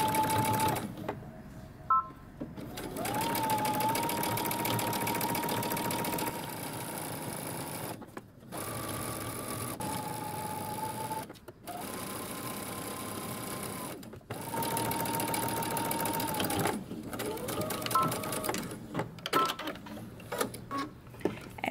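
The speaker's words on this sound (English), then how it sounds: "and we're going to top stitch." A sewing machine topstitches around the fold of a small fabric hoodie's hood, running in long steady whirring bursts separated by short pauses, close and clear with no talking over it.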